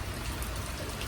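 Steady rain falls in a continuous, soft hiss with no voices, a brief, even patter filling the moment.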